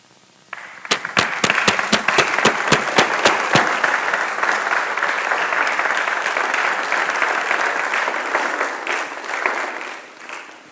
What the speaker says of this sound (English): May I ask all the supervisors who are present to stand and let us applaud them.